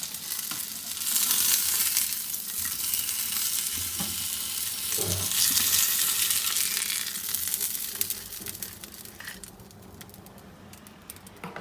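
Thin chicken pieces fry in a pan for a creamy lemon chicken pasta, a close, busy sizzle with occasional stirring clinks that fades somewhat toward the end.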